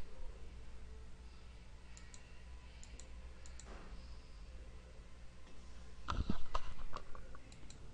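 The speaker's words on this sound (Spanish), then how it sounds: "Hacemos clic en ampliar, ampliar y ampliar." Mouse clicks while zooming in the Audacity editor, a few faint sharp clicks scattered over low background hiss, with a closer cluster of clicks near the end.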